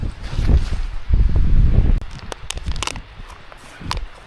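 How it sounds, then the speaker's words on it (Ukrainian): Strong mountain wind buffeting an outdoor microphone in heavy, low rumbling gusts, with crackling rustles and sharp clicks of handling noise as the wind eases. "Я вже буду захищатися від вітру, як можу."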